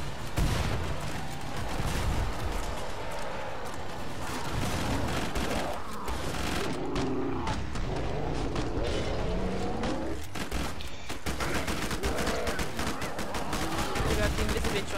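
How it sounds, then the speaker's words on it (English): Dense, sustained gunfire rattles through a chaotic Killing Floor 2 firefight, with rapid overlapping shots and bursts filling the whole stretch amid game effects and chatter. "provide cover fire"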